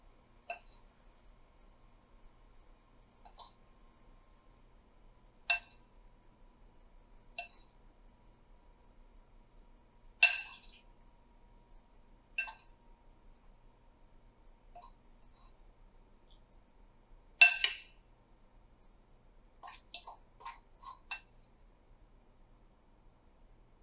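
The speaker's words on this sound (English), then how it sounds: "I'm going to just spoon a little bit of that on each muffin" Spoon scooping streusel crumb topping onto muffins, a sparse series of light clicks and clinks of metal against a tin or bowl, quiet and close with silence in between.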